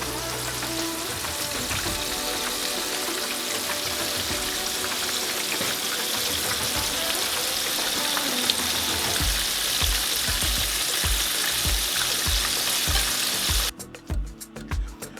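Chicken pieces for orange chicken sizzling and spitting in a hot pan, a loud continuous frying hiss throughout with bursts of crackle near the end.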